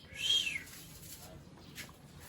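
Pet cockatiels kept at a home garden give one short, faint chirp near the start, followed by quiet background.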